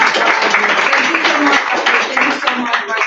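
A conference audience applauds Microsoft as the event host, steady clapping filling the room at close range and fairly loud throughout.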